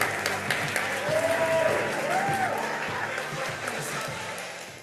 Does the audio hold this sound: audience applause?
yes